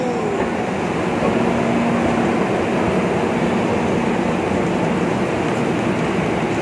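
Steady rumble of an MRT metro train while riding on board, with a continuous loud roar and faint tonal hum throughout and no speech.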